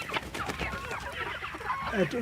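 Chickens on a farm of about 200 birds cluck and chatter in a busy, overlapping series of short calls, moderately close, with no talk.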